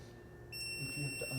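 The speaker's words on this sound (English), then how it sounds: "That beeping you hear is my blind spot monitor starting up." A motorcycle's blind spot monitor powers up with a high electronic tone that starts partway through, steady and thin over a faint low hum.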